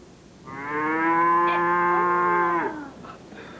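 A person imitates a cow's long, low moo with their voice, a single sustained call of about two seconds, close and loud, with no other talk around it.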